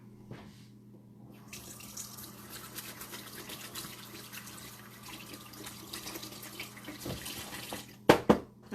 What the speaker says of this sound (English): just gonna go wash my hands and I'll be right back